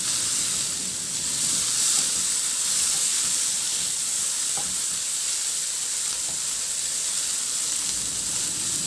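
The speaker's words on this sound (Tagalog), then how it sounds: "maglagay na rin ako ng kamatis. Ihalo lang din hanggang sa maluto yung kamatis." Onion and tomato sauté in a pan, giving a steady, close sizzle and frying hiss that runs without a break and with no voices.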